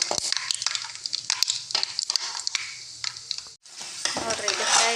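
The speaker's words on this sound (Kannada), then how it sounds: "ಇದು ಶೇಂಗಾ ಹಾಕಂತೀನಿ. ಇದೊಂದು ಸ್ವಲ್ಪ ಫ್ರೈ ಆಗ್ಬೇಕು ನೋಡ್ರಿ ಶೇಂಗಾ." Peanuts and mustard seeds crackle and sizzle in a hot pan for Maharashtra-style kanda poha, with sharp popping bursts and scraping stirs, one brief pause near the end.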